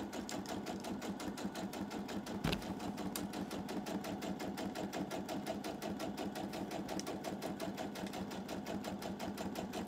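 A sewing machine stitching a quarter inch seam through two layers of fabric runs continuously at a fast, even rhythmic whir, close and steady throughout, with one brief knock partway through.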